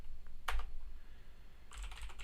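Short bursts of keystrokes on a computer keyboard entering a terminal command, a quick cluster of clicks near the start and another flurry at the end, close and fairly quiet.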